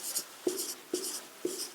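Chalk or marker strokes on a classroom board during a maths lesson, several short scratchy strokes in a steady rhythm, close and moderately loud, with no voices.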